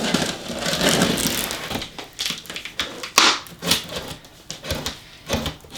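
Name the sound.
scissors cutting through packing tape on a box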